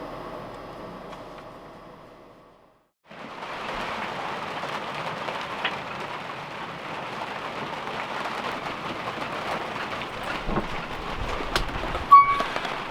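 Steady winter storm rain hisses and patters without letup on a liveaboard sailboat in British Columbia, with a faint low rumble and a few sharper drops standing out near the end.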